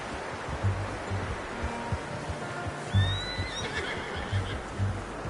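A horse in Red Dead Redemption 2 gives a high whinny midway through, over a bed of ambient outdoor game noise and low repeated hoof-like thuds, fairly faint overall.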